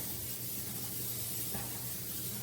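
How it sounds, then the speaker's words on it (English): Cooking spray hissing onto a pizza pan in a home kitchen, a steady, close aerosol hiss lasting a couple of seconds, with a brief stronger burst partway through. "So we're gonna spray the pan."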